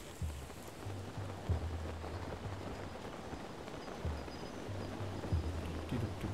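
Rain falls steadily in the video game Zelda: Breath of the Wild, an even patter with low tonal music notes pulsing underneath at a moderate level.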